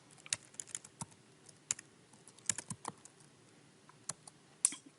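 Keys on a computer keyboard tap in irregular clicks, some single and some in quick clusters, soft and close in a quiet room while a Stata command is entered.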